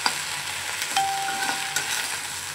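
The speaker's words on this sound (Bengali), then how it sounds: "আমি নাড়াচাড়া করে এগুলো ভাজা ভাজা করে নিচ্ছি।" Sliced okra fries in a little oil with salt, giving a steady close sizzle while a utensil stirs it, with a few soft scraping knocks along the way.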